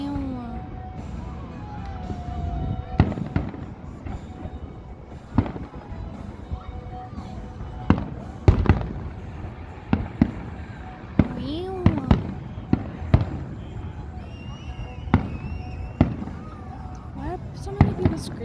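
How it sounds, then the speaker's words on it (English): Outdoor fireworks boom one after another at irregular intervals, sharp loud bangs over a constant crowd murmur, with people talking and exclaiming close by throughout. "pretend that the Squishmallows are watching the fireworks too."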